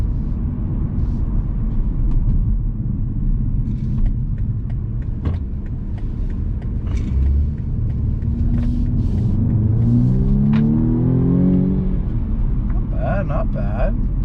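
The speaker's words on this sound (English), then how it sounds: "Accelerates right away. That turbo definitely doesn't have any lag." A 2020 BMW M235i Gran Coupe with a turbocharged engine accelerating on a test drive, a steady low engine rumble heard from inside the cabin with a rising pitch sweep as it pulls, loud and continuous.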